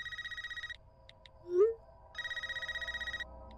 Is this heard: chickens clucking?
no